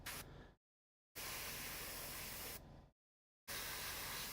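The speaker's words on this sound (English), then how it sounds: "gives us the contrast when we're done with the spray altogether" White spray paint hissing from a can in three long, close bursts, each steady and broadband, separated by short silent pauses.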